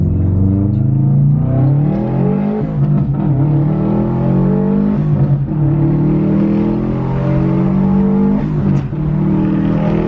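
A Mitsubishi Evo 9's engine revs repeatedly and loudly up close, steady harmonic roar rising and falling in several throttle blips with no talk.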